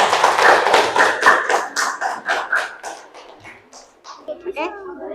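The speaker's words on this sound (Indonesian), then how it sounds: "kita kasih aplaus untuk kelompok 3" Classroom applause at a junior high school in Polewali Mandar, Indonesia, as students clap for group 3: a dense burst of many hands clapping for about three seconds, then thinning out into a few scattered claps and children's voices.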